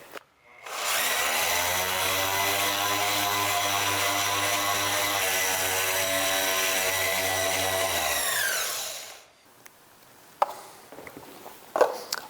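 Electric sander with a loosely fitting buffing pad polishing a wax finish, a loud steady motor whine running for about eight seconds before winding down, followed by faint handling clatter.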